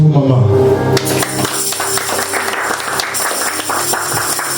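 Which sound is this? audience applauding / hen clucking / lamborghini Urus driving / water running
audience applauding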